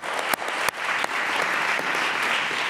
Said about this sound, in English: let's give these guys a round of applause for being here,